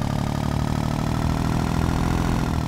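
Steady engine drone of an Eicher Königstiger EA400 tractor driving in Farming Simulator 19, a continuous low, even chugging hum held at close range with no pauses.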